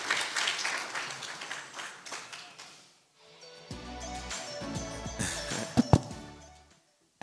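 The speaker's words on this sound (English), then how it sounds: "I want us to put a round of applause to our panelists as we release them." Audience applause for conference panelists at a climate and nature finance strategy launch in Rwanda: a broad wash of clapping for about three seconds, then a pause and scattered rustling and thumps as people settle.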